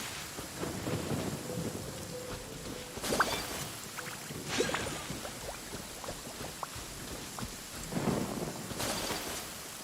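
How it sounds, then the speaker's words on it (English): Rain and rolling thunder in the Genshin Impact video game, a steady wash of rainfall with several loud thunder cracks and rumbles spaced through the clip, no talk. "Let us find shelter from the rain."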